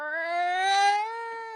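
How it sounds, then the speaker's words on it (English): Cat in heat yowling, a single drawn-out wavering wail lasting over a second, clear and fairly close, heard on its own. "A cat in heat."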